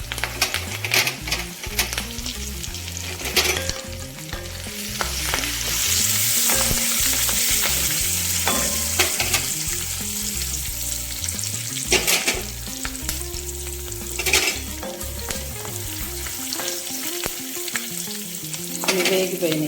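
Curry leaves and green chillies crackle and sizzle in hot oil seasoned with fenugreek powder and turmeric, stirred with repeated scraping clatter, loud and close for about twenty seconds, no speech.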